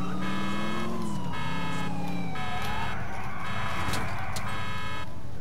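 A police siren wails continuously in Grand Theft Auto IV, rising and falling over engine rumble and layered game sound effects, loud and close.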